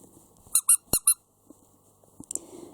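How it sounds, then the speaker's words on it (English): A sturdy plush dog toy with a thick outer layer squeaks four times in quick succession, loud and close, followed by faint soft handling rustles. "It is really a dog toy, and they made it pretty sturdy. It squeaks."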